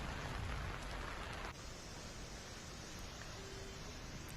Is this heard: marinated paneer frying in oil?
no